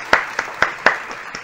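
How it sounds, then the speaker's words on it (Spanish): A few sharp, separate hand claps welcoming a guest poet at a show, roughly four distinct close claps in quick, uneven rhythm, fairly loud and sparse. "vamos a recibir con un fuerte aplauso a nuestro querido invitado, el amigo Argenis Díaz."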